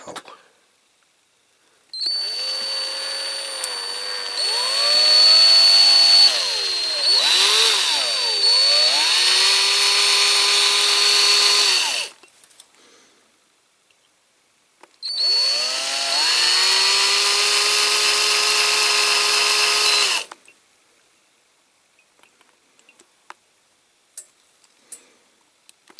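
A high-pitched power drill whines steadily for about ten seconds while drilling into a die-cast Corgi Toys Mini, its pitch wavering as it bites, then pauses and runs again for another five seconds.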